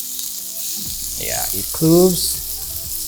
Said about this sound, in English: you add your pimento, and you kind of just saute this for a bit